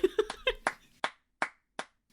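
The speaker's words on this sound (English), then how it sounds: "I need to hear the claps." A few sharp hand claps ring out close by, quick at first, then slowing to a handful of spaced single claps in an otherwise quiet room.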